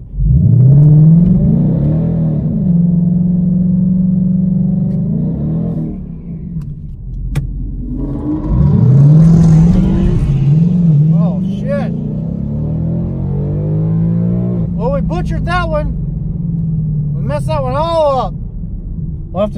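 A 2019 Ford Mustang GT on stock tires making a drag racing pass, the V8 roaring loud and close through rising revs and gear changes, dropping off midway and revving again, with voices talking over it.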